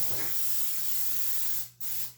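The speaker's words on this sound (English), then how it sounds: "I don't particularly like using spray oil, but it's the only one they had." Cooking oil hissing from a spray can into a large bowl for pizza dough, a steady close spray lasting under two seconds, broken by one brief pause, then resuming.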